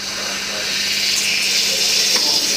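The steam wand of a Quick Mill Cassiopea 03004LO espresso machine is purged, letting out a steady, loud hiss of vapour that grows slightly stronger and holds for a couple of seconds, with a low hum beneath it.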